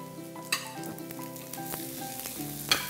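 Sliced onion strips stir-frying in an oiled pan, a steady close sizzle with scraping and clinking stirs at intervals, louder spatula knocks near the start and end, with soft background music and no talk.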